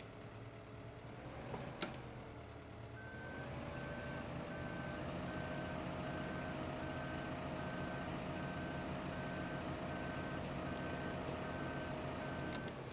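Farming Simulator 15 vehicle backing up, with a regular electronic reversing beep repeating steadily over a loud, continuous truck engine drone after a brief clunk near the start.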